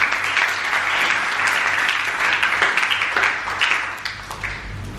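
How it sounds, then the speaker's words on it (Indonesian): A youth and teen church congregation at a Christmas service breaks into sustained, dense applause, many hands clapping steadily throughout with faint cheering mixed in. "Yang setuju beri tepuk tangan yang meriah buat Tuhan."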